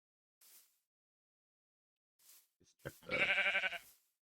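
A Minecraft sheep in the GregTech New Horizons modpack gives a short, loud wavering bleat after a few soft clicks and brief noise bursts, with no talking.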